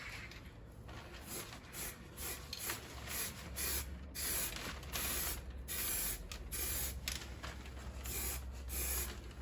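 Spray gun applying a second coat of paint to a Jeep Patriot, a steady hiss broken by short bursts as the trigger is pulled and released, close and continuous without speech.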